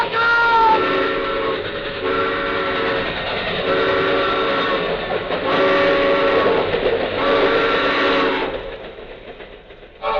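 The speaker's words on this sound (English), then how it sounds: "The train! Look out!" Railway sound effect in an old radio horror drama: a train roars past loud and close with sustained whistle or horn blasts and rumbling wheels, swelling in bursts over about ten seconds before easing off.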